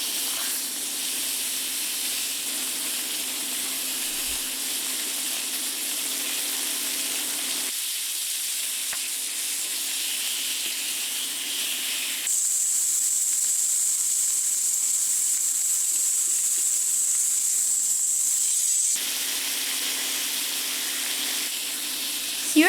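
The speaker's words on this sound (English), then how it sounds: "Sear them for about 2 to 3 minutes each side, depending on the size and thickness of your steaks" NY strip steaks sear in a hot pan with olive oil, giving a steady, close sizzle and hiss that runs unbroken, shifting in brightness as the meat is moved.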